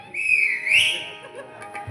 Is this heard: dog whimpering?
no